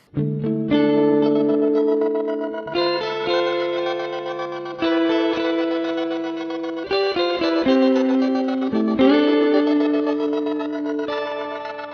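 Electric guitar played through the rain ambient preset of a Mooer Prime P2 headphone amp, sustained chords swelling with shimmering chorus and echo tails, changing every couple of seconds with no talking.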